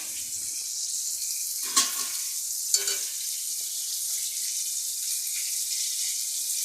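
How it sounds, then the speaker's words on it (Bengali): Rohu fish sizzles steadily in a pan with hot oil, a constant close frying hiss with two brief louder crackles, and no talking. "মাছ আমার সম্পূর্ণ ভাজা হয়ে গেছে"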